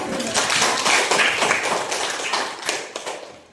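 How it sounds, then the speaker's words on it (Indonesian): A small class claps during a lesson: close, uneven, slightly ragged hand claps that run continuously for a few seconds, then thin out toward the end. "Oke, tepuk tangan dulu."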